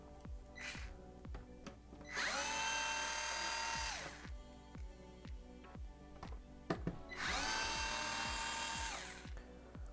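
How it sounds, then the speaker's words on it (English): An electric drill unscrews screws on a Microsoft Xbox Series S in two separate whirring bursts of about two seconds each, surrounded by quiet ticking and tapping from handling the console. "we're going to grab our drill here that we have"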